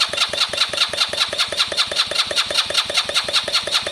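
A Lexmoto Valiant motorcycle engine churns through a start-up attempt, a fast steady run of rhythmic cranking or firing pulses, close and loud, continuing without a break and with no talk over it.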